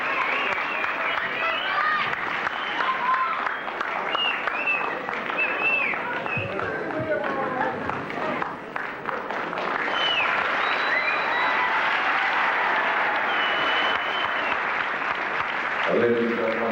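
A 1970s wrestling crowd applauds after a match, sustained clapping and crowd noise throughout with a commentator talking over it.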